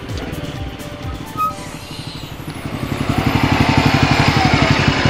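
A Honda Hunter Cub motorcycle rides a snowy forest road, its small single-cylinder engine chugging steadily and swelling louder as it accelerates, close to the rider with no talking.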